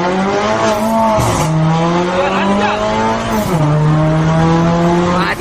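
A Mercedes revs hard and races through gear changes in the Brazilian lowered-car game Rebaixados Elite Brasil, its loud engine whine climbing and dropping with each shift, with a squeal of tires partway through and a voice faintly underneath.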